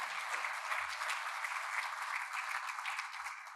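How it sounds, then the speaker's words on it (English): An audience at a mining club lunchtime event in Sydney applauds sponsors with steady, sustained clapping that holds evenly throughout and fades slightly at the very end. "Can you give a round of applause to our sponsors, please?"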